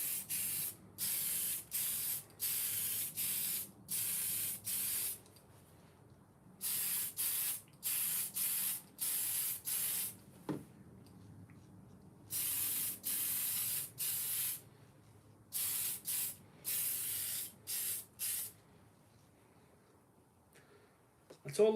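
Spray gun applying paint to a 1969 Ford Transit Supervan, close and loud, in repeated bursts of a few seconds each separated by short quiet pauses, with faint background noise between bursts.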